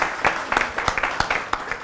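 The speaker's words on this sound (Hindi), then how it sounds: "एक बार जोरदार तालियां हो नेहा जी के लिए।" An audience at a poetry and comedy stage show claps for a woman named Neha, the sharp claps loose and uneven, spaced out and thinning rather than building into a full ovation.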